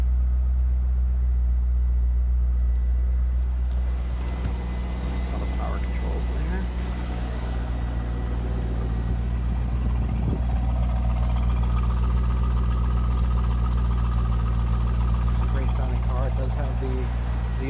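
A 1998 Chevy Corvette convertible idles smoothly and steadily with a low, even engine hum throughout, while someone talks over it nearby.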